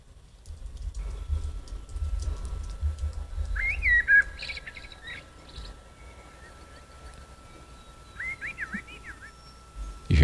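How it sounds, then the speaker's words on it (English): Birdsong from a played recording sounds faint and thin: two separate bursts of warbling, chirping song over a dull low rumble, with a sharp click at the very end. "You hear birds."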